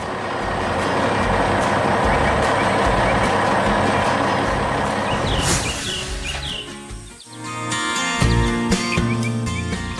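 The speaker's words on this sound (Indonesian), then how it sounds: "Truk itu kini melaju pergi membawa muatannya." A garbage truck in a 3D animated landfill scene pulls away with its load, a loud engine rumble that fades, then gives way to reversing-style beeps and chirping birds.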